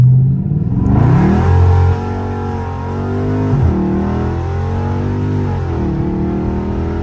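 A Dodge Scat Pack car accelerates hard on throttle, its engine roaring loud and close with a deep, steady drone that climbs and dips through several pitch sweeps over about seven seconds.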